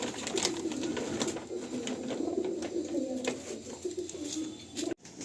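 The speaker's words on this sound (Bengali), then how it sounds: "এই পায়রাগুলো দাদা ডাইরেক্ট চেন্নাই থেকে নিয়ে এসছেন" Pigeons from Chennai cooing in a loft, a continuous low murmur of overlapping coos with brief wing flutters, steady and fairly close throughout.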